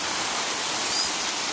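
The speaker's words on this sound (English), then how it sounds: "Huge wall of water, splashing everywhere" A waterfall at Kirkham Hot Springs on the South Fork Payette River pours down as a huge wall of water, a loud, dense, continuous roar of splashing with no voices.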